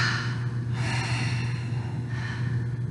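A person in a yoga class breathes out audibly through the throat in two long, breathy exhales, close and clear over a low steady hum, with no talking.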